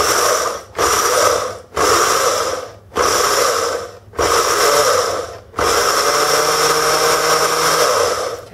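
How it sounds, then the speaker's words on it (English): A blender grinds oats into flour in five or six loud pulsed bursts of whirring roar, each cut by a short gap, with the last burst running longer, close and alone. "they need to be put in a blender or a food processor and grind them until they're fine"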